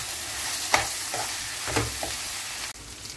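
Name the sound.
frying mutton with chilli powder in pan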